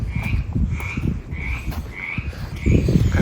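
Frogs croak in a steady rhythm at a farm with pigs and burros, about six loud, close calls at regular intervals over a low rumbling background.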